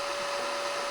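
A power drill bores upward into old Studebaker metal for an electric steering brace, a steady whining motor hum with a fixed pitched tone that holds at constant loudness through the short clip. No one speaks.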